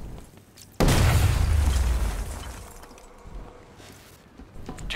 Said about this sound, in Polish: Drzwi zamknięte, ale nie bez przyczyny mamy wybuchowy żel.